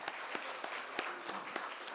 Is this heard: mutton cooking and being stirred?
no